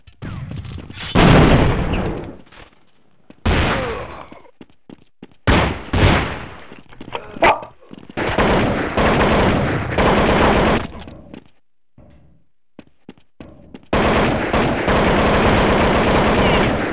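Counter-Strike gunfire comes in loud bursts of rapid shots and short fusillades, cut by brief silent gaps, close and harsh, with no voices.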